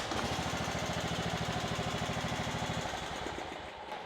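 A Kohler Command engine running near at hand, a loud, rough, steady chugging with a rapid even beat that loosens and slows slightly toward the end.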